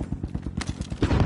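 Rapid automatic gunfire in the video game Call of Duty Warzone, a fast close burst of repeated shots that grows denser and louder toward the end, with no talking.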